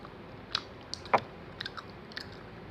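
A hard Milo cube being bitten and chewed up close, with a handful of separate crunchy cracks and clicks spaced across a few seconds against quiet room tone.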